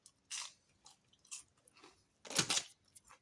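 Close, crunchy chewing of a bite of Arby's barbecue sandwich with sauce, several soft wet chomps and a louder crunch near the end, heard alone and quiet.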